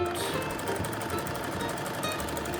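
Sewing machine stitching a bodice to a skirt, a steady fast mechanical whirr with rhythmic needle knocking running throughout, close and fairly loud, with no talking.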